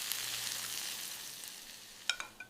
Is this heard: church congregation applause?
no